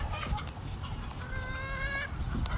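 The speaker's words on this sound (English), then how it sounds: "here is our chicken coop on the farm" Chickens in a farm coop that also houses turkeys give a drawn-out squawking call in the middle, with shorter clucks around it, over a low, rumbling background.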